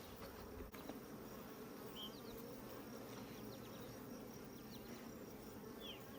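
Honey bees buzz at an open beehive in a faint, steady drone, with individual bees whining past close by now and then.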